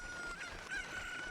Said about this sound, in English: There's a constant cuckoo crowing.